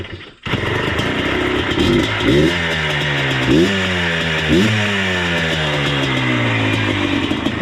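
An ATV engine cranks and fires, then settles into a loud, steady idle with pulsing revs rising and falling, close by.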